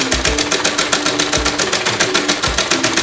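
A normal domestic sewing machine runs an overlock-style stitch on a blouse, producing a loud, rapid mechanical clatter with a steady rhythmic pulse and occasional low thumps, close up and continuous.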